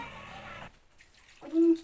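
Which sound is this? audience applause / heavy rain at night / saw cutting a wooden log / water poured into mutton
water poured into mutton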